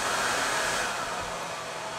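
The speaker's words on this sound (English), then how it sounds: "My hairdryer slowed down a little." A hair dryer blows steadily on a low setting, a continuous close whoosh that eases slightly in strength partway through as the dryer slows down.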